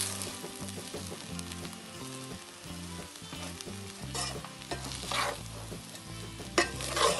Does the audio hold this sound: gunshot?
no